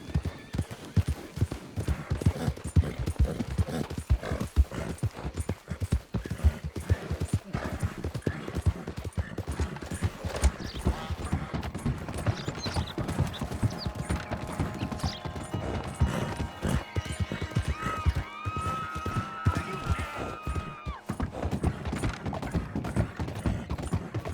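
Horse hooves clip-clop steadily at a gallop in Red Dead Redemption 2, a dense, continuous rhythmic pounding with occasional creaks and a brief snort, loud and close throughout.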